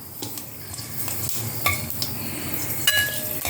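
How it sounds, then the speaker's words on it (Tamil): Vegetables for sambar rice (bisibelebath) sizzle and crackle steadily in a hot pan, with occasional clinks and scrapes of stirring, no voices. "இந்த காய்கறி ஒவ்வொன்றா எடுத்து இதில் போட்டுக்கணும்."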